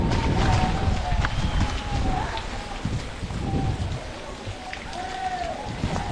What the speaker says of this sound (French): c'est de la pluie de cascade